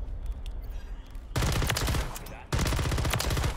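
Two loud, close bursts of rapid automatic RAM 9 fire in Modern Warfare 3 follow quieter in-game ambience, with a brief pause between the sustained volleys and no talking.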